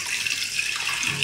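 Water runs steadily from a tap into a sink, a continuous broadband rush of flow that stays fairly loud and even throughout, with no voices.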